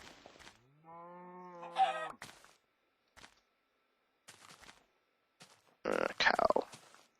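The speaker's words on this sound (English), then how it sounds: "Cow." A cow in the Minecraft video game lets out one drawn-out, nasal moo. Sparse clicks and short game noises follow, then ends with a loud, noisy burst of sound.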